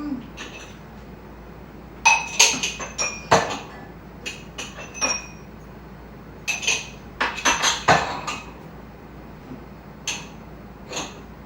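Glasses and crockery clink and knock as pieces are set into a kitchen crockery unit, with scattered sharp chinks in irregular clusters close by in a quiet room.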